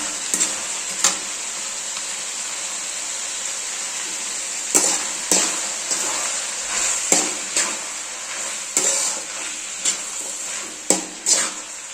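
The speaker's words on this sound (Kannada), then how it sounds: "ಸ್ವಲ್ಪ ಫ್ರೈ ಹಾಕೊತಾ ಇದ್ದೀನಿ" Tomato and onions fry in a very large pan (a breakfast batch for seven or eight people), giving a steady close sizzle broken by a dozen sharp scrapes and clanks of a spoon against the pan, with no talking.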